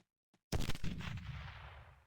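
A sudden, violent explosion in the retro sci-fi shooter Teleglitch, one loud sharp blast followed by crackling debris and a long rumbling decay, with a faint tick just before it.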